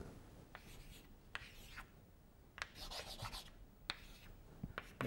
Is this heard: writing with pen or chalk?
yes